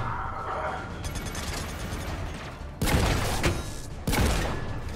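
Video game gunfire, a couple of sharp bursts of shots over a low game soundscape, with a voice faintly present.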